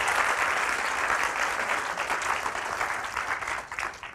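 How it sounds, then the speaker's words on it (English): Audience members at a talk applaud a BAFTA award, a dense, steady round of clapping that gradually tapers off over a few seconds. "Can we have a round of applause?"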